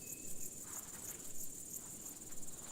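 Large marsh grasshopper singing in a natural setting, a steady high-pitched chirring with faint rhythmic pulses, heard alone.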